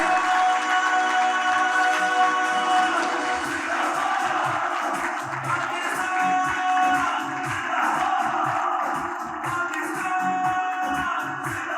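A hall audience at a Benazir Income Support Programme gathering breaks into sustained applause mixed with cheering and crowd noise, loud and continuous throughout, with a steady tonal hum underneath.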